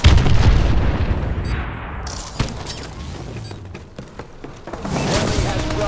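In Call of Duty Advanced Warfare, a loud blast with shattering debris opens the scene, followed by scattered thuds, crackles and distant booms of incoming enemy missile strikes across the battlefield.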